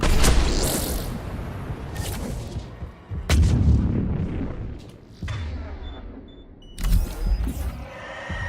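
Gunfire in the video game Mass Effect 3, several sharp loud bursts at irregular intervals, each followed by a short decaying boom, with quieter stretches between.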